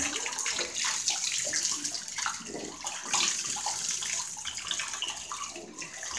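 A shower runs, rinsing soap off, a continuous close hiss of spraying and splashing water that stays fairly even throughout.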